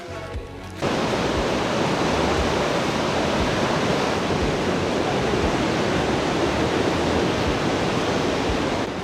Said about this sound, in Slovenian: Evo naju na plaži. Plaža je v bistvu skrita med skale, med klife in potem se ti odpre peščena lepa plaža.